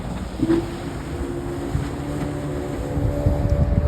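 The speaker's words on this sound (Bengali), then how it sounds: "আর এই যে স্পিড বোট" A speedboat on a lake lined with stilt houses in Brunei, its motor a steady low drone under wind buffeting the microphone, moderately near and continuous.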